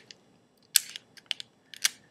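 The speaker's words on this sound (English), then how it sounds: "then it's just a little tick of the shutter" An older double-stroke camera with a standard cloth curtain shutter and no SLR mirror flap gives a few quiet, crisp mechanical ticks and clicks, close and isolated, from cocking and releasing the shutter.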